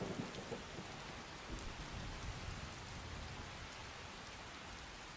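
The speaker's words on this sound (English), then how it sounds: "Character become drenched in the rain?" Steady rainfall with low rumbling thunder in the Skyrim video game, near Helgen: a continuous broadband hiss of rain with deep rolls of thunder underneath, fairly quiet and constant throughout.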